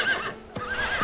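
A horse in the video game Steed lets out a quick, close whinny with a wavering, squealing pitch, broken by a brief sharp thud midway before the call resumes, all within about a second and with no speech.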